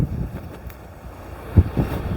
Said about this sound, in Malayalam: ഓ നല്ല അടിപൊളി കാറ്റ്